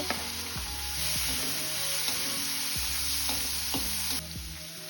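Tomato frying in a pan for a restaurant-style gravy, with a steady close sizzle throughout and repeated scraping knocks of stirring every second or so; no voices.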